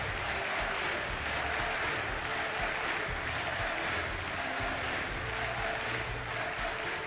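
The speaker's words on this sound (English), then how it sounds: "this crowd during the pause is doing everything it can to get NIP back into it" An esports arena crowd at a DreamHack Counter-Strike semi-final claps and cheers during a pause, a dense, sustained wash of applause filling the hall at steady loudness.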